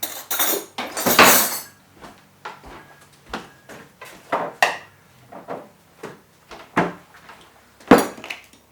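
A clean spoon being fetched from among dishes and cutlery: close, busy clattering and clinking of metal and crockery in quick bursts, a few wooden knocks like a drawer or cupboard, and no talking.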